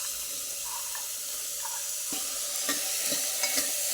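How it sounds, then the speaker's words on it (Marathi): A dry chickpea vegetable dish is stirred and sautéed in a pan, giving a steady soft sizzle with occasional scraping clinks of the spoon, close and without talking. "परत असं 2 मिनटासाठी परतून द्यायचं।"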